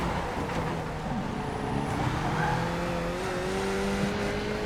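A race car screams around the Adelaide street circuit in the iRacing simulator, its engine droning steadily and loudly with shifting pitch through gears, alone with no talk.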